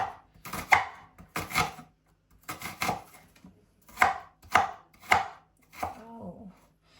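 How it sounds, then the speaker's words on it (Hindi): A knife chops small onions finely on a board: quick clusters of sharp, close taps repeating steadily with short pauses between bursts, loud and alone without speech. "अब मैं फटाफट से अनियंस काटने लगी हूँ"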